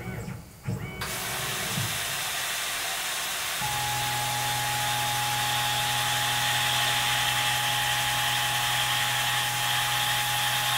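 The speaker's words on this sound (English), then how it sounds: "I'm using a G85 reaming cycle, Infusion 360, never used it." A CNC machine reams a part in a G85 reaming cycle at 100 RPM, a steady loud whirring hum with a constant tone, preceded by brief clunks as it starts.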